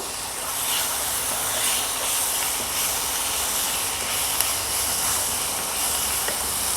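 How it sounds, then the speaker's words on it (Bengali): Tomatoes tip into capsicum frying for a dhaba-style paneer bhurji, giving a loud, steady broadband sizzle and hiss that holds evenly throughout with no voices over it. "ক্যাপসিকামটা মোটামুটি ভাজা হয়ে গেছে, এবার টমেটোটা দেব।"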